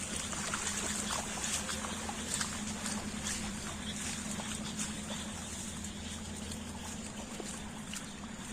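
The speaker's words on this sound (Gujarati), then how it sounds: "વરસાદ ચાલુ છે અને અહીંયા પાણી પણ જાય છે" Steady rain patters in a village downpour with water trickling and running nearby, a continuous wash of sound with a low hum underneath and no talking.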